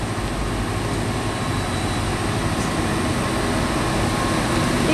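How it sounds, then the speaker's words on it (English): A train rolling on tracks over a bridge at the Falls of the Ohio, heard as a steady, continuous rumble with a broad wash of noise, moving slowly and holding even in level throughout, with no talk. "Train on tracks over the Falls of the Ohio."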